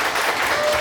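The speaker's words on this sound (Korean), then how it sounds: "박수와 함께 이종남 부장님을 다시 한번 모시도록 하겠습니다." Audience applause at a talk-concert event on disaster safety, a dense, steady wash of many hands clapping together, loud and continuous for the whole moment.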